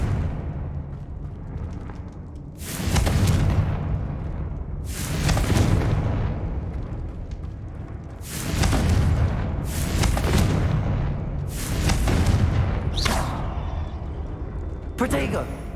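Repeated Confringo fire-spell explosions in Hogwarts Legacy, about six loud booming blasts at uneven intervals over continuous game noise, with a voice speaking in between.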